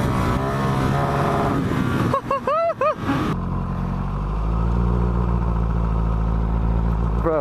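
Fast motorcycle engine on a group ride, a loud steady roar up close with a brief whine of a passing bike, then a heavy low drone as it carries on.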